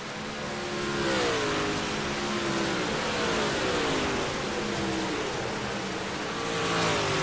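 Fast race cars roar past at a racing event, engines revving and shifting pitch as they sweep by, loud and continuous with a rising and falling whine throughout.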